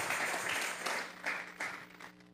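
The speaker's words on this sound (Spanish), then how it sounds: "Vamos a regalarle ofrenda de palmas al Dios de la gloria." A church congregation applauds, dense soft clapping in several swelling bursts, somewhat distant and faint.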